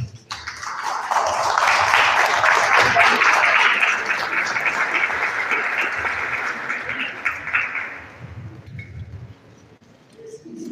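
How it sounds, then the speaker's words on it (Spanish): Strong applause from an audience at a university welcome event for first-semester students, rising quickly and holding steady for about eight seconds before fading into quieter room noise. "todos les vamos a brindar un fuerte aplauso"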